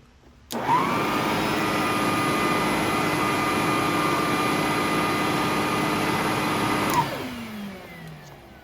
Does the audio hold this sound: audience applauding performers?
no